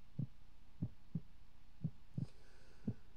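Heartbeat sound effect in the Luna Games video game: six soft, muffled low thumps repeating at a steady, slightly irregular pulse over a faint hum, heard alone.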